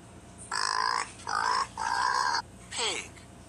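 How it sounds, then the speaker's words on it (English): Pig sound effect from an animal picture book for toddlers: four short, loud, nasal grunting calls in quick succession, the last one sliding down in pitch, with no voices over them. "Pig."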